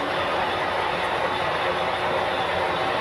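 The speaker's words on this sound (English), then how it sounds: "as the train advances towards the turnout" A model train runs on the Granite Gorge and Northern layout, giving a steady, even rolling rumble that holds at one level throughout.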